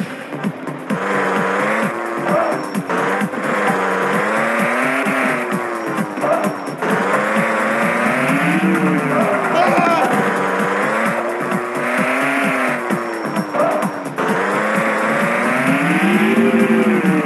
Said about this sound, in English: Let's try to park the limo.